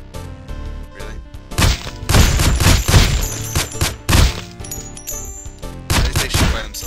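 Automatic turrets in the 8-bit game Infectonator: Survivor fire on their own in rapid, overlapping bursts of gunfire with crashes and dings, loud and busy against chiptune music.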